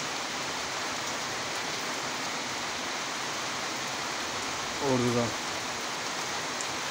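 Steady rain falls on a village in a dense, even hiss with no breaks, while someone speaks briefly and a short tonal vocal sound rises over it near the end.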